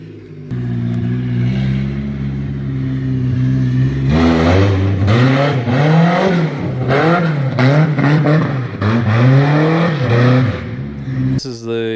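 A Honda F20C engine swapped into a BMW E30 idles, then revs hard repeatedly as VTEC engages, rising and falling in sharp surges on a wet road, loud and close.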